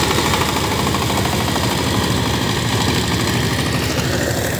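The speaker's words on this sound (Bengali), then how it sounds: "এখানে পাওয়ার টিলার দিয়ে কাদা জমি চাষ করা হচ্ছে" A power tiller ploughs a muddy field, its engine running loud and close with a steady, rattling low throb and no pause.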